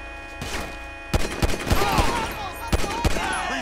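Gunfire in Grand Theft Auto 5 story mode sounds as bursts of close, loud shots and sharp thuds in an irregular rhythm over steady background noise.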